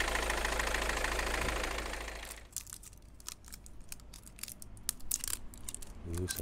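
A Mini Cooper S R56 engine idles to warm up, a steady mid-pitched hum for a couple of seconds, then fainter running under clicks and handling noises nearby.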